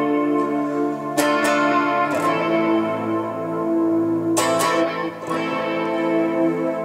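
Electric guitar chords through a Flashback delay on mod setting plus reverb are strummed and left to ring, a lush reverb tail washing around each sustained chord with echoing repeats.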